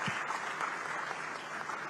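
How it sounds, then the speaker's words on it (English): An audience applauds a visiting Mauritian minister at Pravasi Bharatiya Diwas 2025, a faint, even patter of many hands clapping heard from a distance for a couple of seconds. "A round of applause, please."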